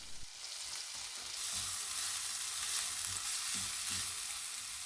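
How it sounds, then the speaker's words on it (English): Finely chopped shallot and a grated garlic clove frying in butter in a pan, a steady soft hiss and sizzle with faint crackles and occasional stirring, heard alone and fairly quiet. "now I'll fry this finely chopped shallot and a grated garlic clove"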